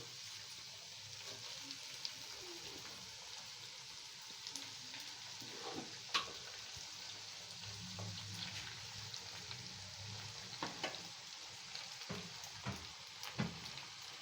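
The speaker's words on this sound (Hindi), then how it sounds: "ये हम सारी मकरोनी इसके अंदर इस तरीके से डाल देंगे।" Macaroni is stirred into frying masala in a pan, giving a faint, low, continuous sizzle. Soft scraping clicks from a spoon or spatula come at irregular moments.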